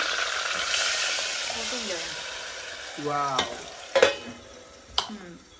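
Curry leaves and spice paste sizzle and fry steadily in hot oil, a continuous close hiss with a few sharp clinks of a utensil, while a voice talks briefly.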